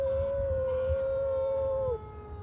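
Chewy the dog gives a long, steady howl that sounds like a passing ambulance siren and cuts off sharply near the end, close and loud, with no one talking.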